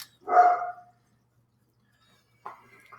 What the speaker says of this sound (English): Disregard the dog barking